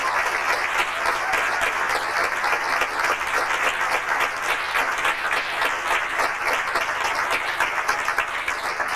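A theater audience applauds steadily at a 1996 Nattergalen show, a dense wash of many hands clapping from start to finish at moderate distance with no voices over it.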